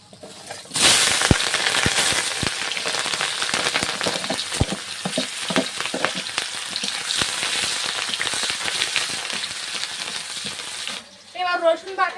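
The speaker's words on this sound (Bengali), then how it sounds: "পেঁয়াজ রসুন আর দুটো শুকনো লঙ্কা দিয়ে দেবো তেলে" Onion, garlic and two dried red chillies hit hot oil with a loud burst of frying that settles into a steady, crackling sizzle with scattered pops, before cutting off near the end to a brief clatter.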